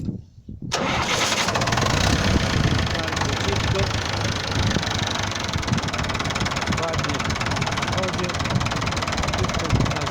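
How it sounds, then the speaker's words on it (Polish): A restored David Brown 950 tractor cranks briefly after a moment of quiet, then its engine fires and runs in a loud, steady, knocking idle close by, with a voice speaking over it. "Ciągnik odpalam."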